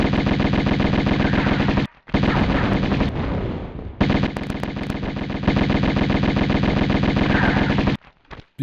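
Rapid automatic gunfire in a Tomb Raider video game, loud sustained bursts of rattling shots broken by brief pauses, with a short gap of softer clatter midway.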